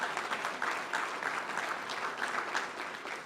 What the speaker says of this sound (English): So give him a round of applause on that tonight.